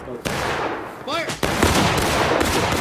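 A Civil War musket volley in War of Rights, a ragged crackling burst of many shots fired together at close range, with shouted commands and battlefield noise around it.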